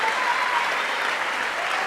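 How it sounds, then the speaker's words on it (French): A TV studio audience claps in a dense, steady burst of applause that fills the whole moment without a break. "Je voudrais quelques applaudissements pour monsieur le sueur"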